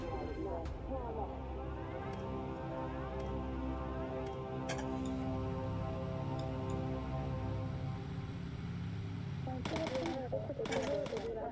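Machine-gun fire shoots down planes in the video game Bomber Crew, with rapid rattling bursts repeating over a steady droning engine bed. Sharper clusters of shots come toward the end.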